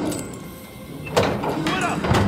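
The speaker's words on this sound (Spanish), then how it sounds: "Abramos esa escotilla" A metal hatch swings open in the Call of Duty: Vanguard campaign, a scraping, sliding mechanical clank rising midway, with voices speaking around it.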